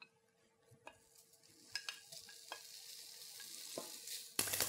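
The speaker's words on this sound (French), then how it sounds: "Dans une poêle bien chaude, on fait revenir les lardons." Lardons fry in a very hot pan with a quiet crackling sizzle and scattered pops and clicks of stirring, louder and brighter near the end.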